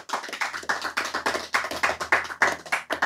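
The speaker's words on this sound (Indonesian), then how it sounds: "Tepuk tangan." Audience at an Islamic study gathering claps hands in quick, steady bursts, close and fairly loud, with no talking over it.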